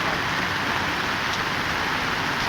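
Heavy rain pours steadily outdoors by a factory gate, with water flooding the road, making a loud, dense, continuous hiss with no voices.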